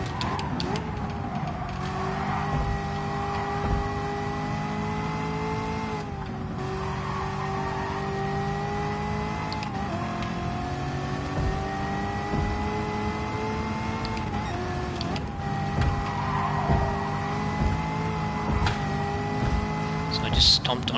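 A race car engine in Gran Turismo Sport whines and climbs in pitch again and again as it accelerates hard out of corners, a steady loud drone with brief shifts and dips.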